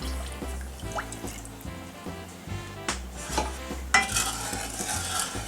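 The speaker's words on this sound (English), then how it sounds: "Now we're just going to continuously stir this until all the sugar is completely dissolved" Sugar and water stirred in a saucepan, a spoon scraping and swishing through the syrup in a steady run of soft strokes, close and moderately loud with small clinks and drips throughout.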